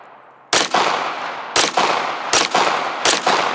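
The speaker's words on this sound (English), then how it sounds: "give the viewers a look at when I'm shooting this gun" Four loud, sharp Walther PDP pistol shots fired alone at roughly one-second intervals, each crack followed by a short ringing decay.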